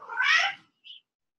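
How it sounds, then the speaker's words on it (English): A cat lets out one drawn-out, close meow followed by a short, faint chirp, with quiet in between during a home exercise class. "Excuse the cat crying."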